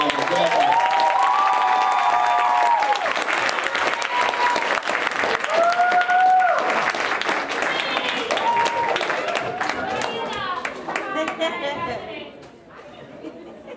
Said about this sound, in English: Let's have a round of applause for 2010 and 2011.